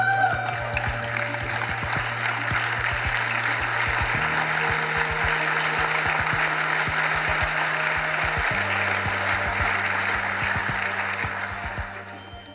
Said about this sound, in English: giving that round of applause to those staff who were able to be here this evening